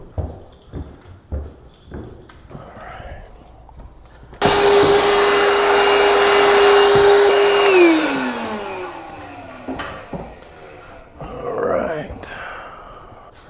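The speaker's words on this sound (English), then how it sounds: "Let's grab that vacuum." A vacuum cleaner in a bar switches on abruptly with a loud, steady whining roar, runs for a few seconds and then winds down in a falling whine. Scattered knocks and handling noises come before and after it.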